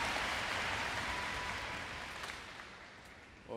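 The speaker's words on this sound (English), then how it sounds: "Now you can hear clapping in the crowd as they get impatient for the point to go on." At a table tennis gold medal match in a large arena, the crowd claps impatiently in a dense, steady patter of applause that slowly fades, heard from a distance.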